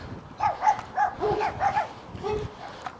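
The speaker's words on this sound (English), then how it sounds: "That little dog." A small dog gives a quick run of yappy barks and whimpers nearby at moderate volume, with short pauses between bursts.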